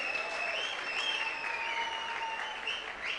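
An audience at the closing ceremony of the III Croatian World Games applauds the young ladies with sustained, dense clapping from a crowd in a large hall, steady and even throughout.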